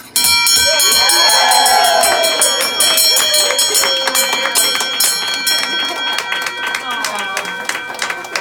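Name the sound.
bell being rung in celebration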